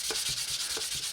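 A sanding sponge rubs across a model's surface in quick, even back-and-forth strokes, a soft close-up hiss repeating about four times with no voices.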